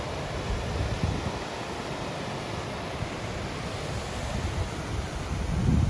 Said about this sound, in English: Another nice little waterfall along the river.